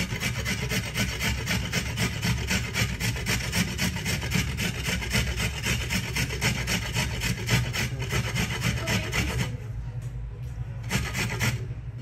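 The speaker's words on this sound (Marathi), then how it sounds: "आवळे मी हे किसणीने किसून घेते." Indian gooseberries (amla) being grated by hand on a kitchen grater, a steady, rapid rasping scrape repeated continuously for most of the time, close and loud, then easing off near the end.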